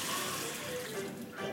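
Hot water runs steadily from a tap into a basin, a soft, continuous splashing hiss at low level with faint talk in the background.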